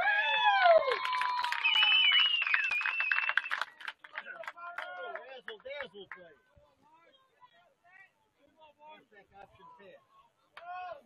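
A crowd cheers at a high school varsity football game between Pewaukee and Nathan Hale, with whistles and shouts strong at first, then thinning into scattered claps and calls as the noise fades.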